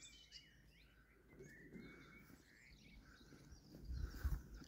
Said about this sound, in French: On entend les oiseaux et tout, là.